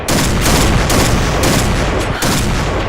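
Rapid bursts of video game gunfire crack out in quick succession, loud and close, separated by brief gaps, from Point Blank on the Downtown map.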